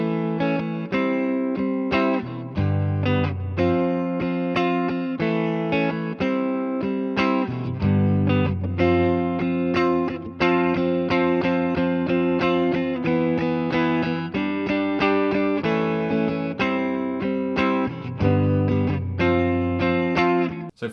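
Electric guitar plays a song's chord part twice through, a bright, effected tone with chorus and reverb. Ringing chords and melodic fills move in a flowing rhythm with no pauses, and no voice is heard.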